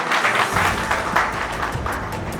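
Audience applause at a Holi get-together in Lucknow, a steady, dense wash of many hands clapping together at moderate loudness, continuous for the whole stretch with no talk over it.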